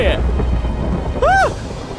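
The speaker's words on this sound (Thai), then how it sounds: "สายฟ้าผ่าที่ผมเฉยเลย" A Minecraft lightning strike and thunder: a loud, continuous rumbling crash with rain-like hiss up close, filling the whole moment, with a brief high swooping tone rising over it partway through.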